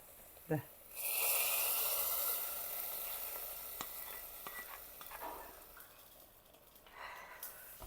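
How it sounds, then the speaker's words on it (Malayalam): A chili powder tempering hits a vegetable curry with a loud sudden sizzle that hisses steadily and slowly fades. A sharp clank comes first, and scattered light stirring clicks follow. "സ്റ്റൗ അങ്ങ് ഓഫ് ചെയ്തു നമ്മുടെ കറിയിലേക്ക് ഇതൊന്ന് ഒഴിച്ചേക്കാം"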